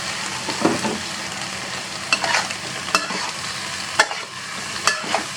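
Morning glory stir-fried with shrimp paste in a pan, Southern Thai style, a steady frying sizzle broken by several sharp scrapes and clanks of a spatula against the pan, close up and without talk.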